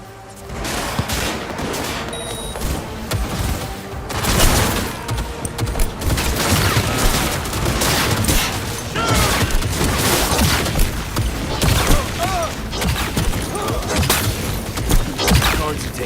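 Sustained gunfire in Cyberpunk 2077 crackles through a loud firefight, a dense fusillade of overlapping shots and thuds with a voice occasionally heard underneath.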